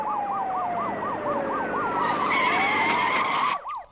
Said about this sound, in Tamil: நம்ம வண்டிக்கு முன்னால போற போலீஸ் ஜீப்ல இருந்து வர சத்தம் தான் சார்